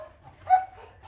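Boomer the dog gives a single short bark, fairly faint and close, amid quiet surroundings.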